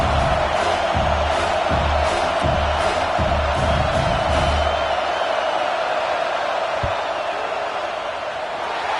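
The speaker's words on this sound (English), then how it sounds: "This crowd trying to do its part to get inside the kicker's head" Football stadium crowd at a South Carolina versus Ole Miss game roaring to rattle the kicker, a loud sustained wall of noise with rhythmic thumping at first that steadily fades.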